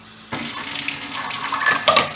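Tap water runs into a kitchen sink while rice is rinsed, a steady close splashing stream that starts abruptly and continues with small clinks near the end.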